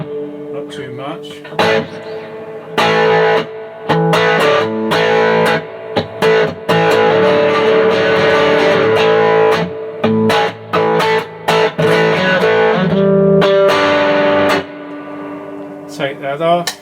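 Electric guitar played through a harmonic vibrato circuit with spring reverb, loud sustained chords and notes with wavering pulsation and lingering reverb tails, broken by short pauses between phrases.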